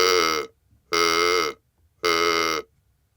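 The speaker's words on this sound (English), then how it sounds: "Next, I will produce a sound by connecting it with the outer tube." A reed source joined to the outer tube of a VTM-S20 vocal-tract model sounds three times as separate vowel-like buzzing tones, a neutral schwa with strong harmonics, each about half a second long and split by short silences.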